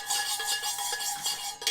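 A metal spoon stirs hot coffee in a cup, giving rapid, continuous clinks and scrapes of metal against the cup's sides, close and fairly loud, with no talking.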